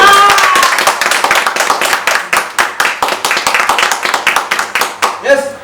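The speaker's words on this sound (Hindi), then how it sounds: "तो मैं चाहता हूं कि इन तीनों के लिए एक जोरदार ताली।" Seminar audience applauding together, a fairly close burst of rhythmic, steady clapping that carries on for several seconds.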